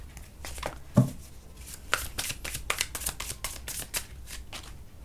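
Tarot cards are shuffled up close, with a steady run of soft riffling flutters and slaps lasting several seconds and no talking.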